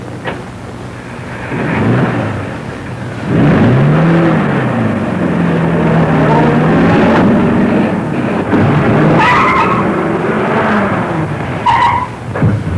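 A car speeds away in a 1940 film scene, its engine rising and falling loudly for several seconds with skidding tire noise, then fading toward the end.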